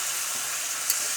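Chicken curry base of reddened onions, tomato and green chilli sizzling in a pan, a brief steady hiss at moderate level with a faint tick, no voices.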